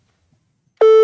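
A telephone line tone on a call that fails to connect starts abruptly after near silence and holds as a loud, steady electronic beep for the last moment.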